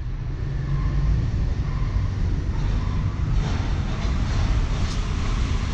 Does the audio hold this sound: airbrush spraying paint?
no